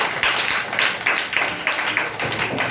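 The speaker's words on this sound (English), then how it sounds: "Well done, clap for Ayush." An audience claps for Ayush at a public speaking competition, a short burst of rhythmic hand claps in even pulses, fairly close and steady, with no talking.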